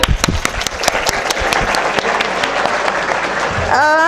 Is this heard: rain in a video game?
no